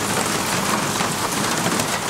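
Steady, dense rain pours onto surfaces, a loud continuous hiss with no voices.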